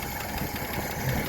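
An old engine that sat unused for 28 years runs steadily with a rough, dense rattle and hum, close and fairly loud, with no voices.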